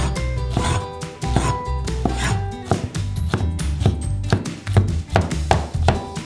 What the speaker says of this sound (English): cut the super sweet pulp into small pieces